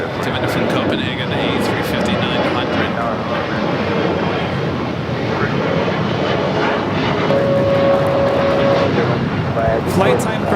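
An SAS Airbus A350-900 arriving from Copenhagen produces a continuous loud roar of jet engines with broad rumbling noise that holds steady throughout, and a faint tone appears briefly near the end.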